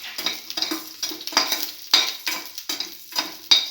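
Green chili frying in a pan with curry leaves and salt, close spitting sizzle broken into rhythmic bursts as it is stirred, metallic scrapes recurring roughly every half second, no voices.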